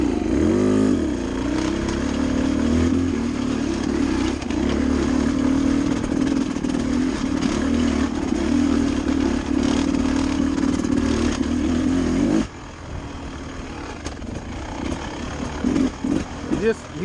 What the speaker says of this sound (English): I'm gonna take off in 3rd gear and go up this thing